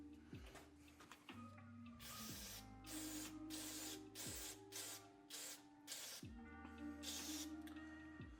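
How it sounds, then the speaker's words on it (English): Carb cleaner sprayed onto a bare-metal carburetor slide from a 1981 Honda XL125/XL185, heard as a series of close, loud aerosol hiss bursts in short repeated pulses over a low mechanical hum. "So when I hit this with some carb cleaner,"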